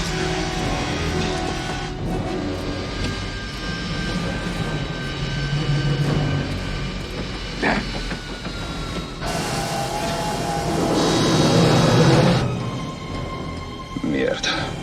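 Steady roar of an airliner's engines and rushing wind during a fight scene on a plane wing in an action film, loud and continuous throughout, with voices and shouting layered over it.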